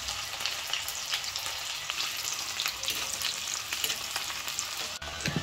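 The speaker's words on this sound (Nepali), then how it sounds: "यसरी म फ्राई गर्दै छु" Chopped onion fries in hot oil already used for frying eggs while making an egg curry, giving a continuous close, bright sizzle with small pops and no voices.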